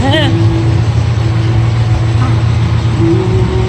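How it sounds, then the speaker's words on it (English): A tractor's steady low engine rumble drones close by throughout, with a voice briefly talking over it at the start. "here comes the tractor. Oh no, more noise."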